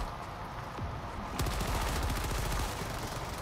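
Automatic machine gun fire in the video game Helldivers 2, a steady rattling burst of rapid shots growing denser and louder after the first second, heard alone without talk.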